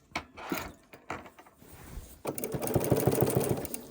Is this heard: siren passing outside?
no